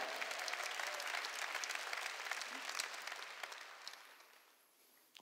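A church congregation claps during a Wednesday worship service, the dense applause filling the room, then thinning and fading toward the end.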